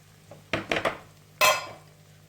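Spoon stirring salt into cooked food in a pan, three quick scraping clinks followed by a louder metallic scrape, close and otherwise quiet.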